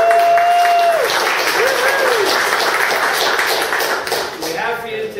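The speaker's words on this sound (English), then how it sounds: "We need a round of applause for database one." A tech meetup audience at a database talk breaks into sustained applause, a dense wash of clapping that holds strong for several seconds before tapering slightly, with voices and whistle-like tones mixed in near the start.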